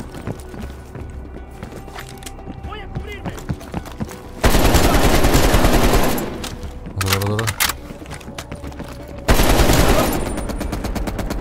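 Heavy machine gun fire in Call of Duty Black Ops Cold War erupts in two long, loud sustained bursts amid other gunfire and game noise, with players talking over the action.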